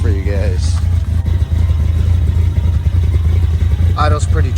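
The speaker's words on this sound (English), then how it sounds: "Truck is warmed up. Carb is sounding very nice. Let's get some raw sound for you guys." A carbureted 1987 truck engine idles with a steady low rumble and slightly uneven, choppy pulsing throughout, with brief voices at the start and near the end.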